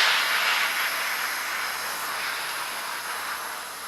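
A steam iron hisses steadily while pressing an Australian DPCU/AMCU camouflage army shirt, a broad even rush of steam that stays fairly loud and constant with no talking.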